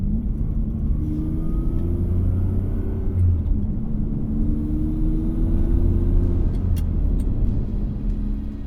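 A Ferrari 550 Maranello engine hums with a low, steady drone, and its pitch rises and falls as the gears change. The sound is continuous and fairly loud.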